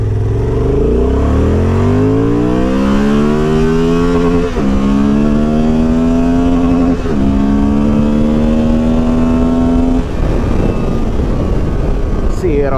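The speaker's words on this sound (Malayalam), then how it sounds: "സൗണ്ട് ഒരിക്കലും ഒരു ട്വിൻ സിലിണ്ടർ ആയിട്ട് തോന്നില്ല, ഒരു V-twin ആയിട്ടാണ് എനിക്ക് തോന്നിയത്" Honda Transalp 750 twin-cylinder motorcycle accelerating hard from 0 to 100 on an open road, engine note rising loudly through several gear changes with brief dips between shifts, close and continuous.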